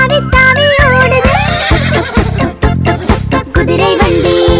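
A horse whinnies over a bouncy children's rhyme in Tamil about a horse cart, with the cart's steady clip-clop rhythm woven into the loud, continuous music.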